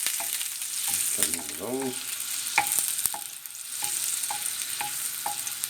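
Butter and olive oil sizzle together in a hot pan as they are stirred. A continuous crackle runs throughout, with repeated light scrapes of a utensil and a brief spoken remark near the start.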